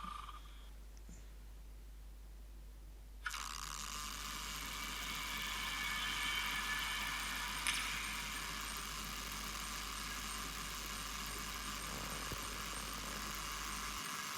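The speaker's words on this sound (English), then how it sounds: "But it's still very noisy at the non-pantograph end. It sounds like something's rubbing to me." An N gauge Revolution Trains Class 321 model train runs noisily with a suspected rubbing fault, giving a steady mechanical whirring hum that starts abruptly after a quiet opening and holds evenly, close and moderately faint.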